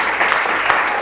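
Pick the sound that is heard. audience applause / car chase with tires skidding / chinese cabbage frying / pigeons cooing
audience applause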